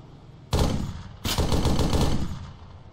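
Gunfire in ARMA 3 during a co-op firefight. Two heavy bursts of shots land close and loud, with the second burst running longer and decaying into a rumbling tail.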